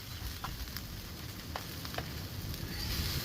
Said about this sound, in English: Cheese is starting to fry up on the outside.